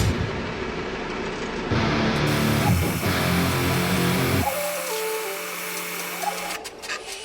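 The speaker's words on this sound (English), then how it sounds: "over here at the belt sander, I'm going to take and put an alcove right at the center mark here" Belt sander cutting an eighth-inch-deep alcove into a wooden workpiece, a loud steady motor whine and abrasive grind that changes pitch as the wood is pressed in, then the machine winds down near the end.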